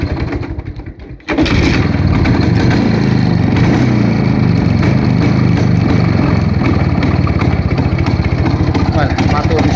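A motorcycle engine kicks into life and keeps running at a steady, loud, close idle with a rapid rough throb, after a brief quieter stretch at the start.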